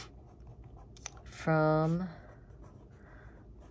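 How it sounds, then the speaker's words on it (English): Pen on paper in a plein air watercolor setup, soft scratchy strokes under a spoken voice, with one short louder scrape. "I'm just gonna write on here"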